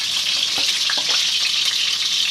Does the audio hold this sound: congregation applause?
no